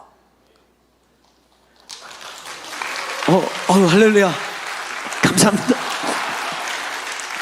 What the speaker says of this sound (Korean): 아무도 박수 안 쳐줬는데 이번에 받네요.